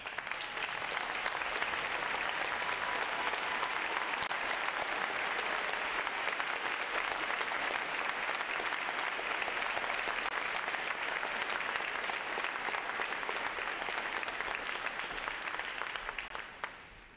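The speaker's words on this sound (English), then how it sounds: "Would all of our veterans please stand and let's give them a round of applause." Sustained, even applause from a large crowd honoring standing veterans at a U.S. Navy Recruit Training Command graduation in Great Lakes, Illinois, a steady wash of clapping lasting well over fifteen seconds before tapering at the end.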